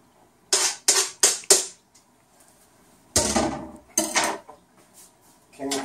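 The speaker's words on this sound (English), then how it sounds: "And then I'm going to dump the bacon in." Chopped bacon dropped into a frying pan of olive oil: a quick run of four sharp clattering hits, then two louder bursts of crackling sizzle, close and without talk.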